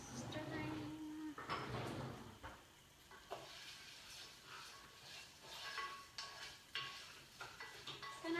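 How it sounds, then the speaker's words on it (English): Rice scrapes and rattles against a pan while food sizzles quietly, with intermittent stirring clatter and a person talking over it. "I'm going to go ahead and add the rice and stir it"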